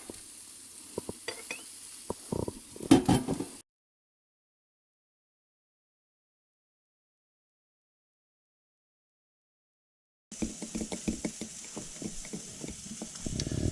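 Bacon sizzling in a pan, a soft steady hiss with crackles and spatters and a few stirring clinks, cut off by a long silent gap before the frying resumes.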